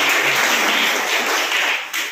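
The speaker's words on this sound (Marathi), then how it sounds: "मी सगळ्यांना विनंती करतो की एकदा टाळ्या वाजून आपण त्यांचेही आभार मानायचे" Audience applause after a call to thank the supporters of a short film on waste-picker women at a launch and honouring event: steady, dense clapping from a crowd, sustained and fairly loud throughout.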